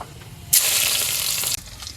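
Chopped onion drops into hot oil in a wok already holding cinnamon and cardamom, and a sudden loud hiss bursts out, holds for about a second, then cuts off sharply.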